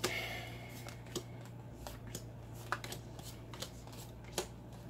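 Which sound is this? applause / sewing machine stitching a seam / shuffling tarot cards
shuffling tarot cards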